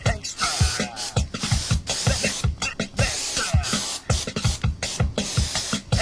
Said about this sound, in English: I'm going to grab this spray here.